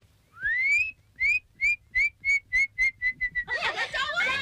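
A person whistles to call girls out of a dormitory, giving a rising bird-like whistle followed by a quick series of repeated, evenly spaced chirping whistles that speed up and break into a rougher flurry at the end.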